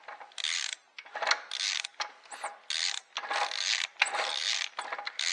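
Rhythmic mechanical clicking and grinding from a BMW F 650 motorcycle engine as the crankshaft is turned by hand, a faulty noise in uneven bursts close up, with no talking.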